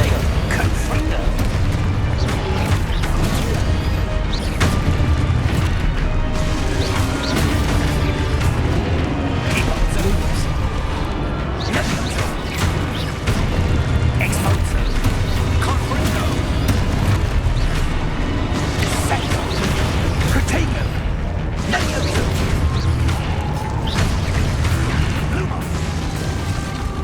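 Confringo blasting-spell explosions in the Hogwarts Legacy video game, a continuous dense barrage of booms and bursts over a busy combat soundscape with voices mixed in throughout.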